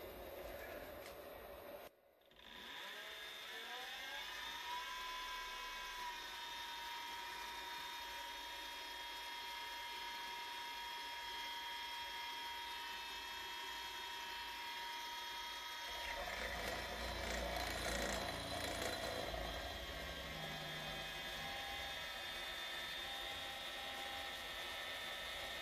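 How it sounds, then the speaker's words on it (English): A mini milling machine drills into a workpiece, with a steady mechanical whine and tonal hum from the spindle, a brief dropout early on, then a louder, rougher cutting grind in the second half. "So let's do some drilling."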